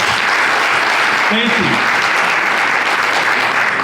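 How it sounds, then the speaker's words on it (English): An audience at an Adwa celebration gathering in Toronto applauds continuously, a dense steady wash of clapping with a brief spoken thanks over it. "I'm glad you're applauding this"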